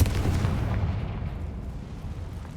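A fiery explosion spell in a Harry Potter video game goes off as a deep, rumbling boom that fades away over a couple of seconds, with no talk over it.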